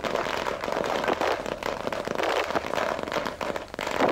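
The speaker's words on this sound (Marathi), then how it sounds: "फटाके फोडून आनंद व्यक्त केलेला आहे" Firecrackers burst in dense, rapid crackling volleys outside a candidate's residence during an election-result celebration, loud and sustained from start to finish.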